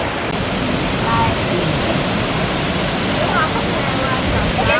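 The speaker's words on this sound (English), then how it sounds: "Come on the falls here. See there? Fully active." A man-made waterfall over 100 feet tall roars with a steady, loud broadband rush of falling water, close and unbroken, while a voice speaks faintly beneath the torrent.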